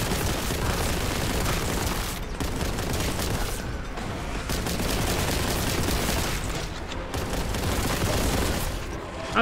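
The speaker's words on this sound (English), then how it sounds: "That was a shotgun again." Shotgun fire from the video game Warhammer 40,000: Boltgun, heavy booming blasts packed into a constant, loud wall of combat noise with brief dips between volleys.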